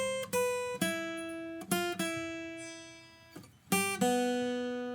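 Lead guitar riff from a song, clean plucked notes ringing out in a sparse, syncopated phrase, close and alone with no voices.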